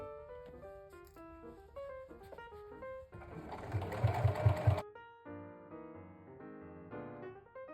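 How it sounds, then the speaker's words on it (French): A sewing machine stitches through a thick denim jeans hem in one short, busy burst of rapid mechanical stitching. Soft background music plays before and after the stitching. "Je passe à la main s'il faut, en actionnant le volant de la machine à la main."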